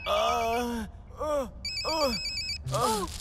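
A phone rings in short repeated electronic bursts for an incoming call from Mansoor, mixed with groaning, strained vocal sounds in between.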